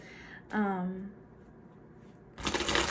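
A brief voice is followed by a pause, then a quick, crisp riffle of playing cards being shuffled close by.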